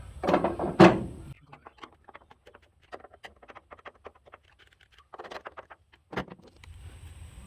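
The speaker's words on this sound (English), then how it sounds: "then we'll close the door nice and easy and see where we're at" A car door on a 1966 Ford Bronco under restoration, newly hung, is closed gently: one heavy clunk near the start, faint rattles and taps in between, then a second solid thump near the end.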